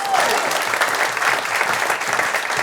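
Comedy club audience applauding a couple in the crowd, a steady, dense wash of clapping held at an even level throughout, with a brief voice at the start.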